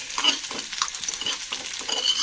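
Crushed ginger, garlic, green chilli and fennel seeds fry in a pan for breakfast, giving a close, continuous sizzle broken by repeated scraping stirs.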